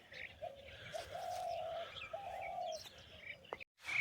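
A bird sitting on a road chirps and trills outdoors, faint and somewhat distant, with light background noise and a brief cut near the end.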